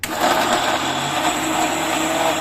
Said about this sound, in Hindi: अब इसको पीस डालेंगे पकड़ के